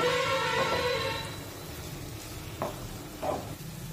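Semolina sheera for prasad halwa is mixed in a pan: a soft sizzle that fades after the first second, then two brief scraping strokes of a spoon near the end.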